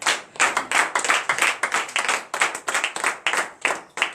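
A church congregation at a Saturday morning prayer service in Benin claps in a steady, brisk rhythm of many hands together, loud and continuous with no talking.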